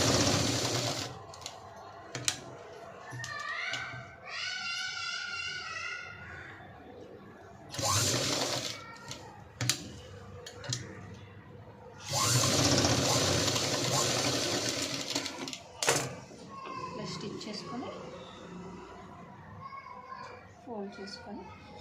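A sewing machine stitches a pencil cut pant in bursts of running motor whir, starting and stopping, with children's voices and talk over it throughout.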